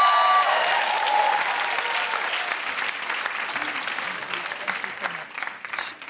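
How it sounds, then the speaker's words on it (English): Audience applauding to welcome comedian Sindhu Vee, a loud sustained burst of many hands clapping that slowly thins and fades, with a few faint voices and cheers mixed in. "Please put your hands together for the incredible Sindhu Vee."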